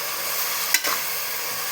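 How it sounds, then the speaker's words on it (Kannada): Ingredients for menthe bath fry in oil with a soft, continuous sizzle, and a single brief scrape or stir from a utensil sounds near the middle. "ಈಗ ಅದನ್ನ ಎಣ್ಣೆಯಲ್ಲಿ ಬಾಡಿಸ್ಬೇಕು, ಸ್ವಲ್ಪ ಫ್ರೈ ಆಗೋವರೆಗೂ"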